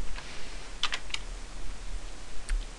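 A few quick, light keystrokes on a computer keyboard while entering PHP code, a short cluster near the start and one more tap later, close and fairly quiet over a faint low hum.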